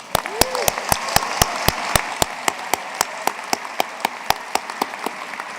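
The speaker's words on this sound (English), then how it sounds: "Let's give them a round of applause." Audience at the Colorado College 2025 commencement claps in a steady, sharp rhythm of distinct claps over a low crowd murmur, fairly close and moderately loud.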